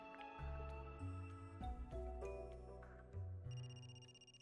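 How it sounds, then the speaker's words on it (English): A mobile phone ringtone in the video game Another Code: Recollection: a bright electronic melody of repeating tones over a low synth backdrop, clear and steady with no speech. "That's my phone."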